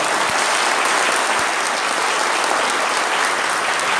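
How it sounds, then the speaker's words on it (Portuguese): A large crowd at a housing construction event in Brazil gives the mayor a round of applause, a loud, dense, continuous wash of clapping from start to finish. "eu queria uma salva de palmas para o prefeito Bahia"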